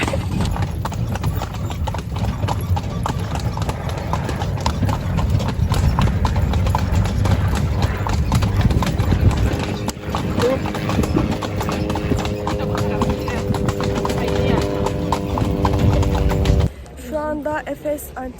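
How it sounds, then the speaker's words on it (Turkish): Horses pulling a phaeton carriage at the ancient city of Ephesus clop steadily and rhythmically on the road, close and loud for most of the ride, with people talking and laughing alongside before the sound drops off near the end. "Efes antik kentine geldik ve şu an orasını gezmek için faytona bindik ve gidiyoruz"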